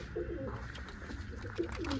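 Soft pigeon coos repeat a few times over a steady low hum, fairly close and quiet.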